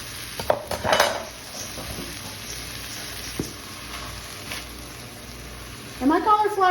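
Shrimp and partly frozen cauliflower rice frying in a pan, a steady soft sizzle with a few utensil clinks and scrapes from stirring, and a voice starting in at the end.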